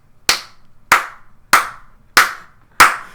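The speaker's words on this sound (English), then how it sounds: "thanks for applauding my reference to this week's episode of Tiger Mask" Five sharp, separate hand claps ring out at a slow, even pace, each crisp and close with a short decay, from a single person clapping alone.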